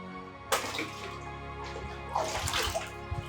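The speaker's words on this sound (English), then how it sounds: "Now I want to draw water from Miracle Well." Water splashes and pours as a bucket is drawn from the Miracle Well at Nigeria's first storey building, a sudden loud splash followed by sloshing and a second burst of running water, close by.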